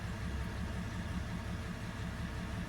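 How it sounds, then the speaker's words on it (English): Boat engine idling in a steady low, even rumble, faint and unchanging over a few seconds with no voices. "So with the engine running"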